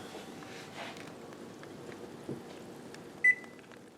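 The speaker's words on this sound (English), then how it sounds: "the timer went off for the dumplings" A single short electronic oven timer beep sounds once, fairly clear above a low, steady hum of background noise, with faint clatter earlier.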